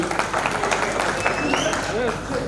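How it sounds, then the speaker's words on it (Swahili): Applause and clapping from a crowd at a PSTC live event, a busy, continuous patter of hands with a voice speaking over it throughout. "Tumpigie makofi jamani, tumpigie makofi."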